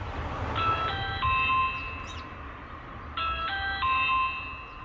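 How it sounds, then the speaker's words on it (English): A Ring Video Doorbell 4 two-tone electronic chime rings twice, each ding-dong melody repeating clearly over a quiet room hum, fairly loud and close. "Sometimes if people press it, it's like."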